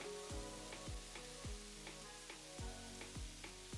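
Cooked, cooled rice with a tablespoon of white vinegar fries in a pan on high flame, giving a steady sizzle broken by regular scraping stir strokes about every half second.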